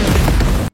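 An explosion at a garrison in a war film erupts as one loud, dense roaring blast that fills the short moment and then cuts off abruptly.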